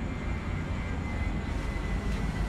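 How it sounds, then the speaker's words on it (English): An airplane passes overhead, a steady broadband engine roar that stays constant and moderately loud throughout, with no talking over it. "airplane!"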